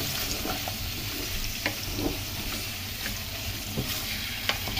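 Chicken, about 1 to 2 kilograms, fries with onions for desi-style Hazara chicken biryani, giving a loud, continuous close sizzle with occasional stirring clicks and no talking.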